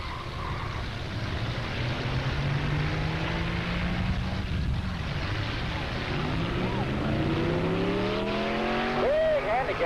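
An old Ford pickup truck and a 1956 Chevrolet Town Delivery make a quarter-mile drag race pass, their engine notes climbing steadily in pitch as they accelerate into the distance over a loud roar.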